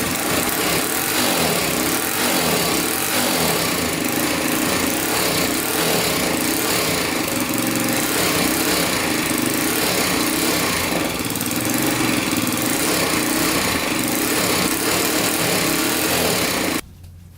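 A 1988 Honda 250X quad engine runs steadily and loudly at a fast, buzzing pace throughout, then cuts off abruptly at the very end.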